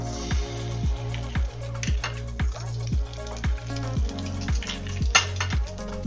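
An egg frying in oil in a pan for a sausage egg-in-the-hole sandwich, giving a steady close sizzle with soft crackles, under repeating musical beats and no talk.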